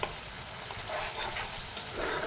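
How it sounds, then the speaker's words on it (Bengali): A spiced mustard and poppy seed masala is sautéed in oil in a pan, giving a continuous soft sizzle with faint stirring scrapes and no voices. "চলো এটাকে কষাতে থাকি এখন দেখো কষাতে কষাতে তেলটা ছেড়ে দিয়েছে"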